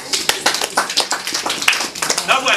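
A crowd claps in a steady round of applause, dense overlapping hand claps rolling continuously at fairly close range with no pause.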